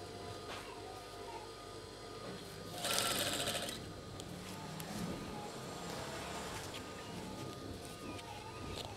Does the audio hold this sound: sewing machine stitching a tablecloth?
yes